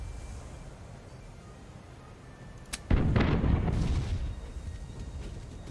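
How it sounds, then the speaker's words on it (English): Ship cannons fire a broadside salvo in the pirate strategy game Tortuga: A Pirate's Tale, a sharp crack followed by a loud, booming burst of several shots that rumbles on for about a second before fading. "Now select fire to fire a salvo."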